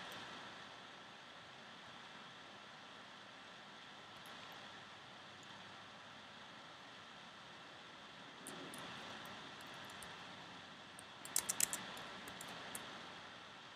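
A jet aircraft engine drones steadily during taxi in a flight simulator game, faint and constant throughout, with a few light clicks near the end.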